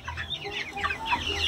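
Chickens cluck and chatter continuously at close range, several birds overlapping in a busy, steady stream of short calls.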